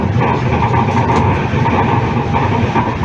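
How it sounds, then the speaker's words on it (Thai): Steady rumbling interior noise of a moving passenger train on a Thai rail line, with continuous low wheel and track roar and faint rattling throughout, no talk. "วันนี้เป็นครั้งแรกที่เดินทางในรถไฟ"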